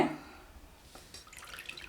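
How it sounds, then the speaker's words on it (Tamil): Water dripping and trickling as it drains from grated potato soaked in water, with scattered light drips and a soft splashy patter heard close by and alone. "இப்போ நல்லா தண்ணி வடிச்சுக்கலாம்"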